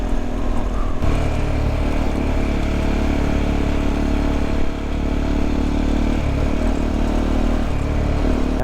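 A KTM 390 motorcycle ridden in Bali gives a continuous, loud engine drone mixed with wind rush. The tone holds steady with slight shifts as it cruises, close to the listener and without talk.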